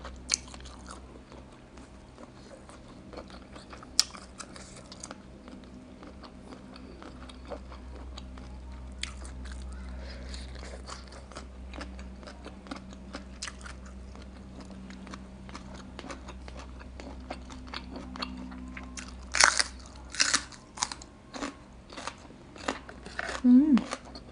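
Someone bites and chews crunchy bitter gourd close to the mic, with sharp snapping crunches in bursts that grow denser toward the end.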